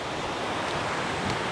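Sigala-Gala waterfall in Mandailing Natal pours steadily, a dense broadband rushing roar that stays constant and close, with no voices.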